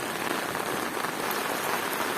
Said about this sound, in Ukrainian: Дощ прийшов.